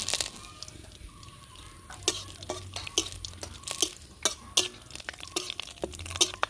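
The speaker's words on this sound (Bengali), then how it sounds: "দিয়ে দিচ্ছি শুকনো লঙ্কা দুটো তেজপাতা" Dried red chillies and bay leaves crackle in hot oil in a village-style kitchen, with irregular sharp pops and a spoon scraping and clinking against the pan, close and fairly quiet, no voices.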